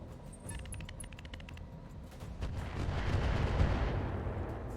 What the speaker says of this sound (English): They're shooting at the Orion.